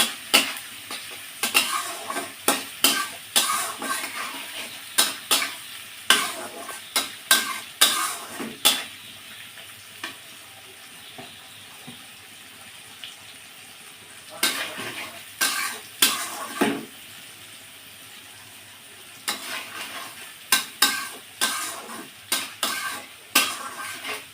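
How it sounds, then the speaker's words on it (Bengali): Spice paste with turmeric sautéed in a pan: bursts of rapid spatula scraping and clattering against metal over a soft background sizzle, stirring in several bouts separated by quieter pauses. "এবার দিয়ে দেবো পরিমাণ মতো হলুদ গুঁড়ো। দিয়ে এই মশলাটা সুন্দর করে কষিয়ে নেব।"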